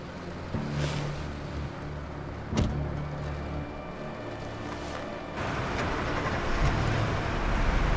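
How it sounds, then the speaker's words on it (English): A car in the video game Life is Strange starts and drives off amid a raging storm, a steady engine hum under rushing wind and rain, swelling louder toward the end. "She started the car and left for Arcadia Bay."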